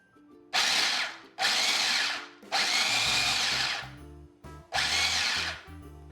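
Electric chopper pulsing pecans into coarse pieces, four loud whirring bursts of roughly a second each separated by short pauses, close and alone with no talk.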